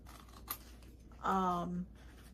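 Sharp scissors cut through a plastic takeout bag in one brief, close, squeaky-edged stretch of cutting, after a single quick snip earlier, with no talking.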